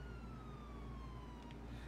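A slowly falling siren tone from a Durastar ambulance in GTA 5, sustained over a constant low vehicle rumble, steady and unbroken with no voices.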